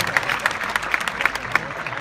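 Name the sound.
audience applause at marathon pre-race briefing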